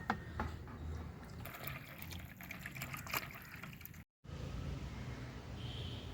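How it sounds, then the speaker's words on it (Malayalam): Steady rushing splash of water being poured into a container to dilute liquid fertilizer tenfold, continuous and fairly close, with a brief cut near the end. "ഇതിലോട്ട് വെള്ളം ഒഴിക്കുക"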